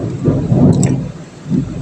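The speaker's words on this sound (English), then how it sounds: "It's raining outside." Rain falling outdoors with rumbles of thunder, a steady hiss over low rolling booms that swell near the middle and again toward the end.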